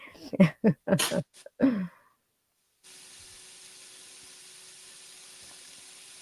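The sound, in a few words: food sizzling in hot pan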